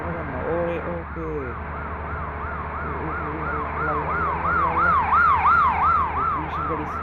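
A police car siren in the game Bus Simulator Indonesia wails in a steady rising-and-falling cycle, growing louder over a low engine drone.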